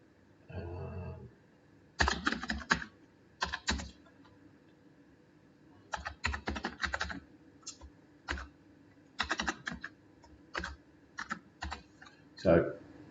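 A new password is typed on a computer keyboard in short bursts of quick clicking keystrokes, close and fairly quiet, separated by brief pauses.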